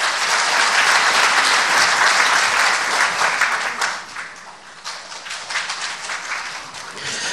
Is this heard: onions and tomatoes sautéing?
no